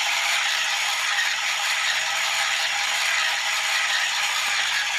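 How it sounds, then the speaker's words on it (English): A small motor in a solar-powered electric toy shark kit spins indoors, giving a steady, continuous mechanical whirring with a faint ratcheting rattle that holds even and unbroken throughout. "the amount of charge in that capacitor is enough to give it that kick to get the motor spinning."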